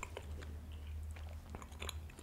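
Chinese food being chewed up close during an ASMR mukbang, with soft wet crunches and small bites ticking irregularly over a steady low hum.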